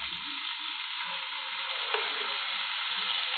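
Raw banana pieces fry in hot oil with a continuous even sizzle, close and steady for a few seconds, with no talking.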